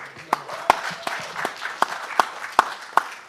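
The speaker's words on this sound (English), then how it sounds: "round of applause." An audience at a boxing press conference for Jake Paul vs Hasim Rahman Jr. gives a short round of applause for a former heavyweight champion, with scattered distinct claps against a murmuring room.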